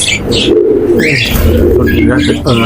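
Caged pet budgerigars, lovebirds and cockatiels, including red-eyed lutinos, chirp and call in a busy overlapping chatter at close range, with someone talking over them.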